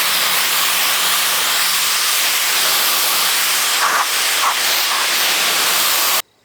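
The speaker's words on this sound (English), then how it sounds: "Let's rinse this half off" Steady, close water spray hisses across the paint of a Porsche 944 with peeling clear coat, running evenly for about six seconds before cutting off abruptly.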